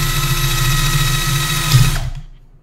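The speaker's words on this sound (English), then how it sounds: "let's start drilling." A power drill bores into a cap on an old MacBook Pro, a loud, steady whine with a constant pitch that runs for about two seconds, gives a brief surge near the end, then cuts off into silence.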